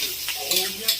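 Ginger, garlic, onion and tomato sautéing in a pan, a close, steady sizzle and hiss with brief stirring scrapes and a faint voice in the background.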